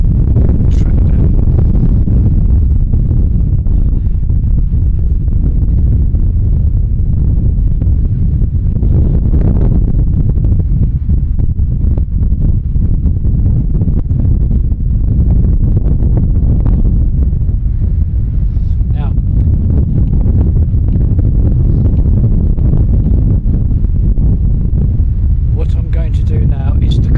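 Steady wind buffets the microphone outdoors along a Blackpool seafront tramway construction site, a loud continuous low rumble with gusty swells and no speech throughout.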